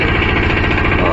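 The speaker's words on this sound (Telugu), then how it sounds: "ఇంజిన్ పట్టేసిందా?" An auto rickshaw engine running roughly, a loud close steady chugging rumble with rapid knocking pulses throughout.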